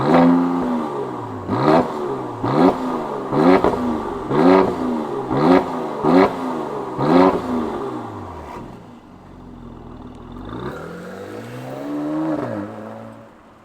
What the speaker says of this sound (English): let's fire it up and hear what it sounds like in this AMG